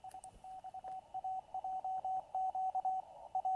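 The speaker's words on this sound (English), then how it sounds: "And you get Morse code." Morse code tones picked up on a web-based software defined radio, a steady beeping pattern of dots and dashes at one pitch over a faint hiss of static, fairly quiet and with no voices.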